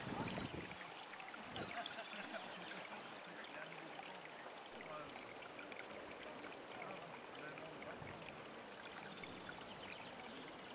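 A stream flowing steadily, a continuous soft rushing and pouring of water with no break, fairly faint and heard alone.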